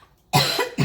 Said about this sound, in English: That's why I'm coughing like this